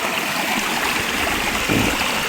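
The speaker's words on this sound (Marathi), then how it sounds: "इथं मानगंगा नदीचं आणि बाणगंगा नदीचं उगमस्थान आहे" Water flows and burbles at the source of the Manganga and Banganga rivers, a constant, close, broadband rushing stream that fills the whole clip with no voices over it.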